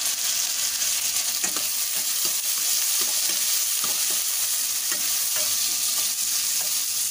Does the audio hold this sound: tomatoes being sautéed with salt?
yes